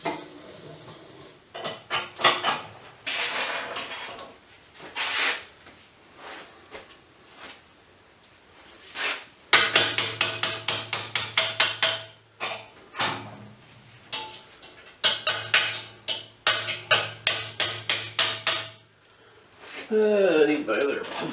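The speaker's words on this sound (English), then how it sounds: "what I'm going to do now is take that pin out of the hinge." A punch is hammered against a metal hinge pin from a scrapped dumpster find, a close series of sharp metallic strikes coming in clustered rapid bursts separated by pauses, with bits of speech between them.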